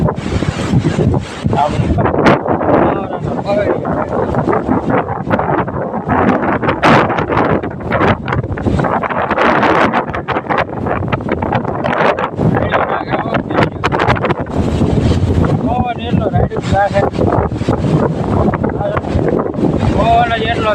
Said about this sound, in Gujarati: માંડ પવન ધીમો પીડ્યો પણ એ થોડોક જ વરસાદ ચાલુ થઈ ગયો બધું પલાળી દીધું